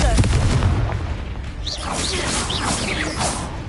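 Confringo blasting spell in a Harry Potter video game, a loud booming burst at the start followed by whooshing, crackling spell effects, with a voice speaking over it.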